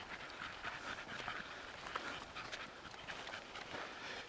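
An English Staffordshire bull terrier pants steadily and rapidly close by, a continuous breathy rhythm with no talking.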